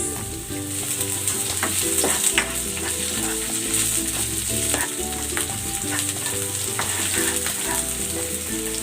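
Garlic and onion sautéing in a hot pan, a loud continuous sizzle with frequent stirring scrapes throughout, no talking.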